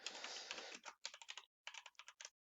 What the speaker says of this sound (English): So first thing we want to do is to type in some text.